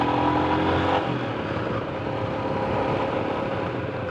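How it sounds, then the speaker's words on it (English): A 2020 Royal Enfield Himalayan motorcycle ridden at full throttle on a familiar road, its engine droning loud and steady from start to finish with wind rush mixed in. "I'm full throttle right there."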